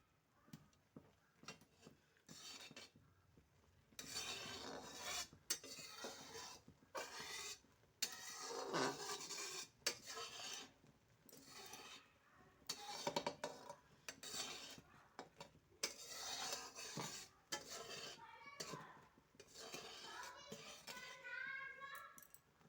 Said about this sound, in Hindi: इसी प्रकार से हम गुड़ को मिलाते रहेंगे बीच बीच में।